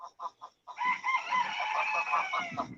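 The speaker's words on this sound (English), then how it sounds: "I love hearing them chickens in the morning." Chickens cluck a few short notes, then a rooster lets out a long crow, fairly close but not loud, heard in the morning with no talk over the birds.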